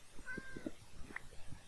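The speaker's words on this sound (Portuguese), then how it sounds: "Olha o gato miando" A cat meows in a Minecraft survival game: two short, faint meows rise over a low, murmuring background.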